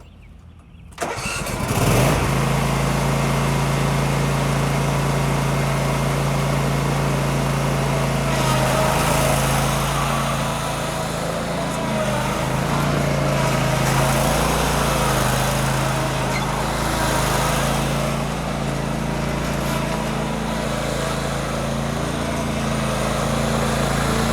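Craftsman Z510 zero-turn riding mower engine cranking and catching, then running loud and steady close by, with a constant hum and slight rises in revs and no talk.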